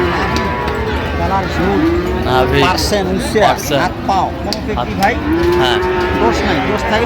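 Sahiwal cattle mooing and lowing nearby, several drawn-out calls over a busy cattle market in Dinajpur with people talking in the background.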